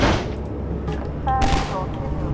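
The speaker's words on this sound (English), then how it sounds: "Somebody's shooting at me." Gunfire in Half-Life 2 sounds as a few brief bursts of shots mixed with game effects, moderately loud and close, with some talk over it.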